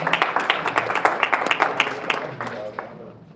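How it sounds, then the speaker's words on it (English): Applause from the audience at a Clearwater city council meeting, a brief burst of many hands clapping at close range that tapers off over a few seconds, mixed with a voice speaking. "Appreciate the applause, folks."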